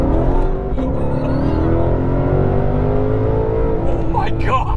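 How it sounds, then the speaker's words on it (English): The Mustang GTD's V8 engine revs loudly and close, a deep throbbing roar with rising pitch sweeps, while voices talk over it. "I love the sound though. I mean, that is traditional American V8."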